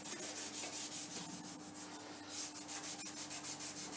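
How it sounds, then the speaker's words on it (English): A Scotch-Brite abrasive pad scrubs the metal surface of a centre lathe during maintenance, making steady rhythmic rubbing strokes, close and fairly quiet, repeating at a quick even pace with no talk. "I'm just going to go over it with a bit of Scotch-Brite"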